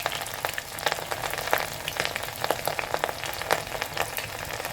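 Sliced medium-sized onions fry in a pan while being browned, giving a steady dense sizzle with scattered crackling pops throughout, close and moderately loud, no voices.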